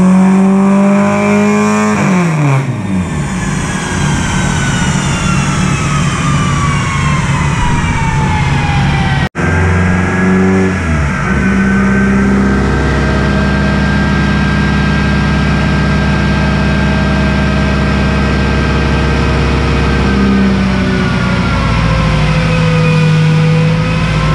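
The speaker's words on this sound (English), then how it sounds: "we're gonna go throw this thing on the dyno and do some testing" A car engine revs hard on a dyno during pre-season testing, rising to a loud, sustained high-pitched wail, dropping briefly, then climbing again through long, steady pulls at close range.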